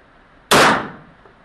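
A single sharp gunshot from a Browning clone 9mm pistol at an outdoor range, a loud crack with a short decaying tail, and no talking.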